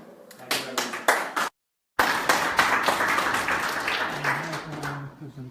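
A small audience applauds at the end of a presentation with quick, distinct hand claps. A brief silent gap is followed by fuller, sustained clapping that tails off as a voice begins.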